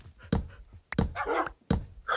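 Dogs in Minecraft bark and yip in three short, close bursts spaced about half a second to a second apart, with small whimpering sounds between them.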